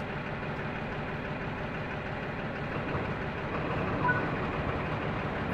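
The diesel engine of a BR 204 locomotive runs in the Train Sim World 3 game, a steady low rumbling drone at constant level that swells slightly toward the end, with no talking.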